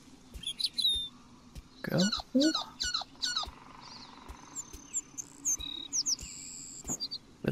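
Small bird chirps and tweets in quick bursts and short trills, close and fairly clear, over a faint insect-like background hiss, with a voice saying a brief word partway through.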